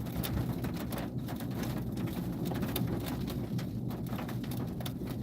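Steady rain and wind roar during a storm chase in northwest Kansas near a supercell, a dense continuous wash with scattered drops tapping close by.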